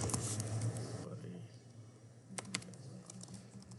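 Clicking keystrokes as code is typed on a computer keyboard, close and quiet, in irregular bursts with someone speaking at the start.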